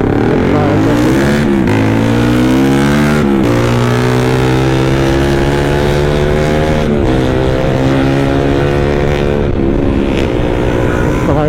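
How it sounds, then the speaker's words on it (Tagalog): A loud Raider 150 racer motorcycle roars close by, its engine rising and falling through several revving surges with a strong harmonic whine that holds loud throughout. "Isang racer dun. Raider 150. Ingay."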